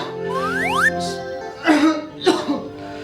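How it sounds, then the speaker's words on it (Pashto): A man with a sore chest and aching body coughs twice in short, rough bursts close by, following a rising cartoonish sweep sound effect. "ټوخی دی را باندې"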